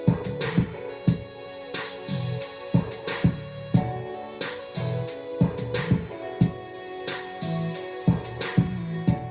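A mixed hip-hop beat plays back with punchy kick and snare hits in a steady, looping rhythm, bass and melodic layers underneath, no vocals.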